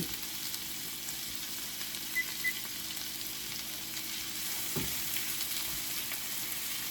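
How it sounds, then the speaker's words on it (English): Mushrooms frying in butter in a pan give off a steady, soft sizzle and crackle, fairly quiet and continuous with a few small pops and a faint clink partway through. "The mushrooms are cooking up nicely."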